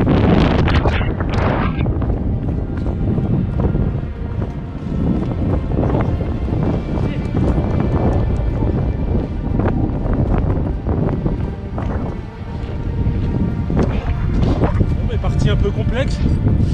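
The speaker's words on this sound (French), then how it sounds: "j'ai le vent en plein dans le visage" Strong wind buffets the microphone during a 25 km trail running race in Buzancy, a loud continuous roar and rumble filling the whole stretch with gusty surges.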